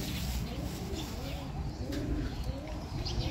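Pigeons in a loft at midday give soft, overlapping coos that run steadily through a busy, noisy background, with faint chirps mixed in.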